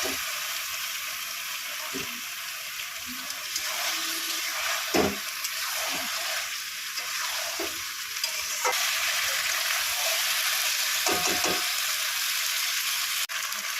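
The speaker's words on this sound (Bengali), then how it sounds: "মাংসটা ধুয়ে ঝুড়িতে জল ঝরিয়ে নিয়েছি, কষিয়ে নেব।" Washed chicken pieces fry and get stirred in a pan with ground garam masala paste. A steady close sizzle runs throughout, with scraping and stirring knocks at irregular moments.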